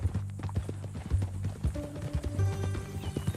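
Horse hooves clip-clop in the Western video game Red Dead Redemption 2, a steady close walking rhythm with faint tonal game sounds rising underneath toward the end, and no talk over it.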